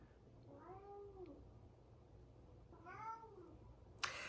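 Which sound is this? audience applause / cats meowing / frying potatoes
cats meowing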